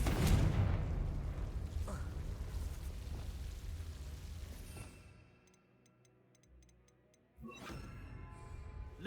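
A Confringo blasting spell going off in Hogwarts Legacy, with a loud booming burst at the start that rumbles and fades. A sharper second blast hits near the end, and a few soft ticks fall in the quiet gap between them.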